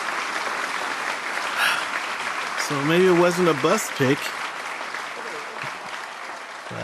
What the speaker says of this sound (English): Well, sounds like the crowd likes it.